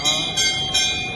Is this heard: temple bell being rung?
yes